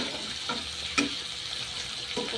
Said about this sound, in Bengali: তেলে হালকা রসুন পেঁয়াজ কাঁচামরিচ দিয়ে চিংড়ি মাছ দিয়ে ভাজতেছি